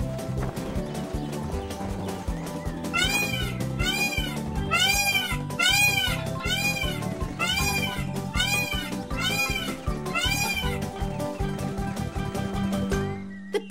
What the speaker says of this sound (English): Those jungle cats are too close.